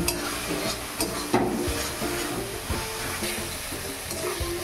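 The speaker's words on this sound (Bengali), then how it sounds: "মশলাগুলো এইভাবে নাড়তে থাকবেন কিছুক্ষণ।" Spice masala for jackfruit curry frying in oil as it is stirred in a pan, with a steady crackling sizzle broken by scraping spoon strokes, close and continuous with no talk.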